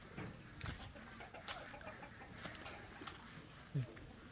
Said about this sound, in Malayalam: കോഴി താറാവ് ഒക്കെ ഉണ്ട്